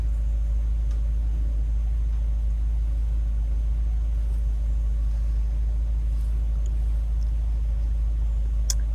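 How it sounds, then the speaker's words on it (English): A 1999 VW Golf Mk3 with a 2.0 petrol engine idles with a steady, low, even hum, close by and constant throughout. "while the car is running"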